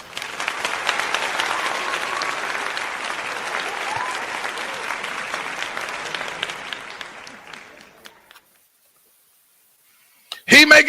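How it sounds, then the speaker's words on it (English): Canned applause sound effect with dense clapping and crowd cheering for about eight seconds that fades into silence, followed by a brief burst of a voice at the end. "Let me put some applause on that."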